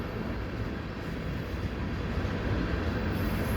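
A three-engine CPKC westbound intermodal train passes at night at Dorval, a steady, loud, broadband rumble of rolling cars filling the whole stretch with no pauses or voices.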